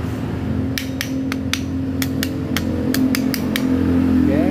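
A Yamaha Vega RR motorcycle engine idles with a steady low hum while a sharp metallic ticking knock repeats in irregular bursts, loud and close.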